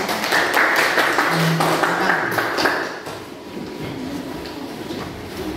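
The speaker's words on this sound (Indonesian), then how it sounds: "Aplaus buat kelompok 1 ya" A group in a classroom claps a quick, dense patter for a few seconds, then the clapping fades into softer room noise.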